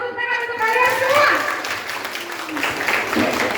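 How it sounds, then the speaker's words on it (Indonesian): Audience applause at a police community outreach event on traffic safety, anti-brawling and anti-drugs, a dense, fairly loud wash of clapping with children's voices calling out over it. "Tepuk tangan untuk kalian semua."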